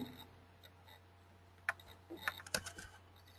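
Computer keyboard typing while lead details are entered, a few scattered faint clicks and then a short quick burst of keystrokes, close but quiet over a low room hum.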